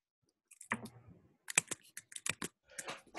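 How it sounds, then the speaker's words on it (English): Typing on a computer keyboard during an online technical call, a close burst of quick, irregular key clicks with brief pauses. "someone is typing"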